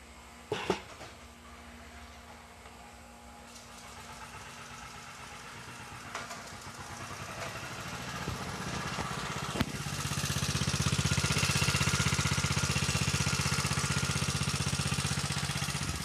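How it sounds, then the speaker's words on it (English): A motor running on water gas with its belt removed idles steadily and then grows louder and rougher as it picks up, with a couple of sharp knocks early on; no voices. "start the engine, then he'll pull the belt off, and it's running on nothing but water gas"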